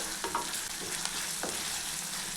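Chopped green chillies sautéing in a pan, a soft continuous sizzle close by with occasional scraping stirs, no voices.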